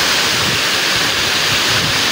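A waterfall roaring steadily at close range, a dense, unbroken rush of falling water with no voices over it.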